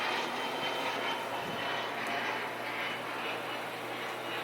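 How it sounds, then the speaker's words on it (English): An airplane flies overhead with a faint, steady engine drone that holds throughout, heard from a distance against quiet outdoor background, with no talking. "that's an interesting looking plane"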